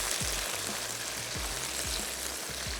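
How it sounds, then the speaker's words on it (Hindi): Okra fries in a pan with garlic and ginger as a spoon stirs it, making a steady dense sizzle with soft low thumps from the stirring throughout. "भिंडियों को हमने चमचा चलाते जाना है।"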